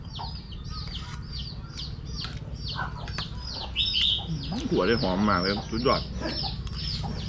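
Chickens cluck and cackle repeatedly around a Thai street food stall where basil stir-fry with minced pork and chicken giblets is cooked, the bird calls steady throughout and mixed with kitchen noise and someone talking.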